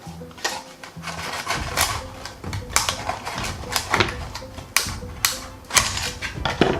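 Scissors cracking and prying at a pen shell clam outdoors on a terrace, a rapid series of sharp snapping, crunching clicks with uneven rhythm, close and loud, with brief human exclamations mixed in.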